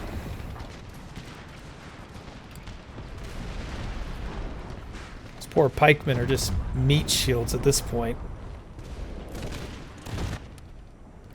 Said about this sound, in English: Get rid of those mortars. They're firing quickly as well.